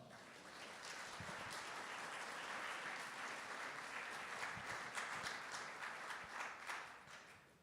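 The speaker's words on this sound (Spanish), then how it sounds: "Den un aplauso al Señor" Congregation in a church service applauding, a sustained, dense wave of clapping that stays even for several seconds before tapering off at the end.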